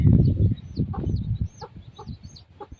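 A chicken clucks outdoors in a series of short repeated calls over a low rumbling background, the clucks growing clearer and more spaced as the noise fades.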